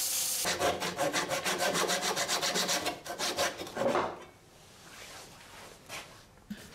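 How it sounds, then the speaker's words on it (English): Sandpaper pressed against a burl wood vase spinning on a lathe, a loud rhythmic rasping that pulses steadily for about four seconds, then fades into a quieter low whir. "Then just a touch of sanding and the piece is ready to come off."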